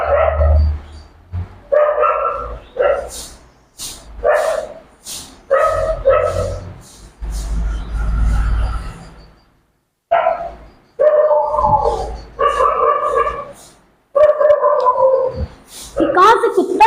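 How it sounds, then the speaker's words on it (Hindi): A dog barks in bursts nearby, repeated loud barks and yips alternating with pauses, while someone speaks in between. "कहां से कुत्ता इतना भौंक रहा है?"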